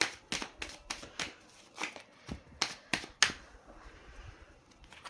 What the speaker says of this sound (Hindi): पहले अच्छे से कार्ड्स को शफल करते हैं